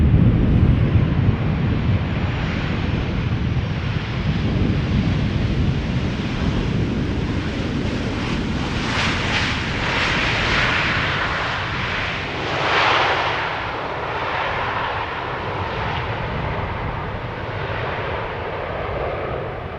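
KLM airliner on Flight 1228 from Paris Charles de Gaulle touching down at Amsterdam Schiphol, a broad continuous roar of engines and rushing wind, loudest at the start and holding steady for the whole stretch, with no talk.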